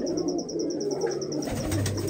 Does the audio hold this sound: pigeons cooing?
yes